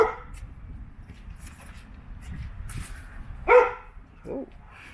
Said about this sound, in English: Whoa, little dog.